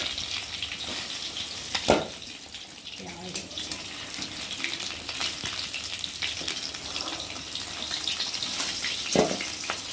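A large fish fries in oil in a pan. A continuous watery sizzle hisses throughout, broken by a couple of sharp clatters from the pan or utensil.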